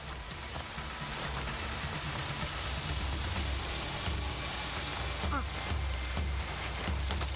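Steady rain in Assassin's Creed Shadows: an even, hissing patter of drops striking surfaces, continuous and fairly loud, with a low rumbling drone running beneath it throughout.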